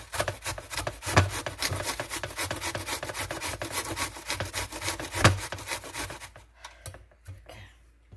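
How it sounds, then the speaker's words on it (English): Onion being grated by hand into shredded potatoes for hash browns, a fast, steady rasping stroke rhythm close up that runs continuously and then stops, leaving a few faint scrapes. "we're going to proceed to grate the onion in with the potatoes"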